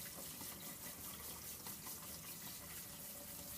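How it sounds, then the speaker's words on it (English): A kitchen tap runs steadily over drained pasta in a ramen kitchen, a continuous loud splashing rush of water without pause. "One of the reasons that I turn on the water is to stop the cooking of the pasta."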